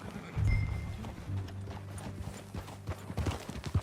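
Horse hooves clip-clopping in a quick galloping rhythm over low rumbling background sound, steady and moderately loud, in the video game Red Dead Redemption 2.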